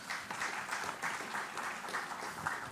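Conference audience at a national capital markets event giving a round of applause, steady pulsing clapping heard at a distance and fairly quiet throughout.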